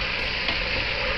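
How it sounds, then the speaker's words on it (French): Veal blanquette with green olives stirred in a pot, a dense close sizzling hiss with faint scraping that holds steady throughout. "Je remue."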